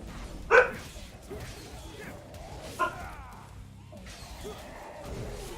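Dog barking in the video game Devil May Cry 5: a sharp bark near the start and a second, softer one about two seconds later, set over a quiet game soundtrack.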